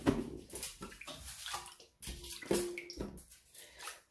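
Fish being washed in turmeric water in a kitchen, with close splashing, sloshing and dripping water in several uneven bursts.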